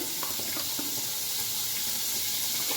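Butter sizzles in a hot pan for chicken tikka karahi, a constant close hiss with faint crackles and no break.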